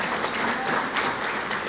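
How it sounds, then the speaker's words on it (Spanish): An audience applauds at a culture and tourism ministry award ceremony, a steady wash of clapping that holds evenly for a couple of seconds, with faint voices underneath. "Un fuerte aplauso, por favor."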